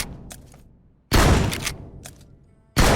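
Gunfire in the PUBG Mobile shooter game: two loud, sharp bursts of shots ring out after short quiet gaps, each followed by a fading tail, up close with no talking.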